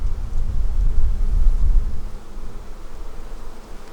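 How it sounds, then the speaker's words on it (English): Honeybees buzz around an open hive outdoors, a dense, continuous low drone that is loud and close, with a soft rumble underneath and no talking. "Oh, I got a bee on my hand."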